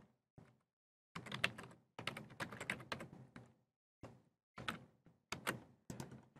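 Computer keyboard keys clack in short bursts of quick taps separated by pauses, close and fairly quiet, with no talking.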